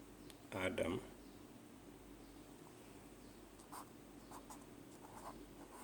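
A blue pen scratches across paper in a short, faint burst near the start, followed by a few softer light strokes against quiet room tone.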